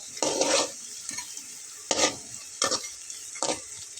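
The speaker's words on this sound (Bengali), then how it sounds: "এখনও ভাজা কমপ্লিট হয়নি, কিন্তু শব্দটা দেখুন, একদম ঝুরঝুরে ক্রিস্পি একদম।" Semolina potato snacks in about a cup of oil crackle crisply, four separate bursts of sizzling as they are turned, close with quiet gaps between.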